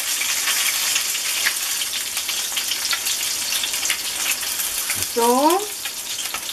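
Chicken fries in a pan with a steady, dense sizzle and crackle throughout, close and fairly loud, while a voice speaks briefly near the end.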